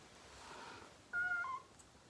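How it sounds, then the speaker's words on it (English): A cat gives a faint, short meow near the start and then a louder, clearer meow with a rising and falling tone, set against a quiet, hushed room. "Oh, this is my cat."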